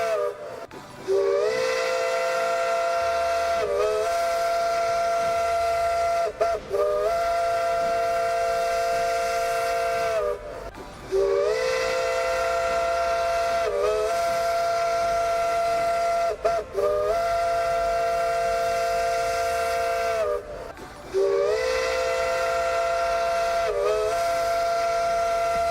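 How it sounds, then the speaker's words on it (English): Train whistles in the modded railroad game Railroader, long loud tonal blasts sounding again and again, with brief gaps between them. "Oh boy, the whistles, they just keep going and they keep going and they keep going and they keep going."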